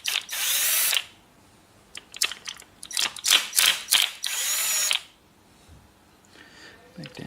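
Bursts from an impact gun or power drill spin engine head bolts loose, several loud whirring runs of about a second each separated by short pauses and clicks, with quieter speech toward the end.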